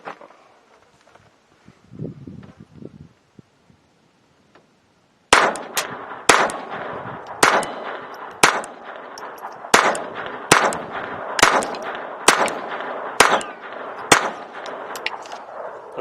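Rapid-fire shots from a Ruger LCP II .22 pistol at a 10-yard range, about a dozen sharp loud cracks in a quick steady rhythm following a quiet stretch with faint movement noise.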